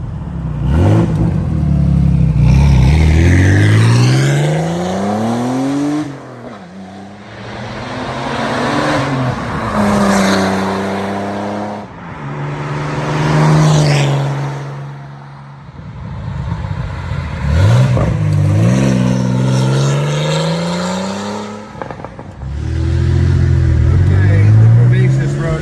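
A 1991 Porsche 964 C2 Turbo makes repeated flybys outside, its engine note swelling loud as it approaches, sweeping down as it passes, and fading, several passes in a row with some talk mixed in.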